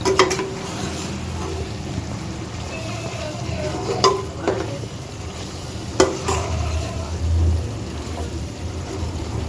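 A spoon stirs liver fry with chilli and coriander powder in a pan, a steady low sizzle with occasional scraping knocks against the metal, close and moderately loud.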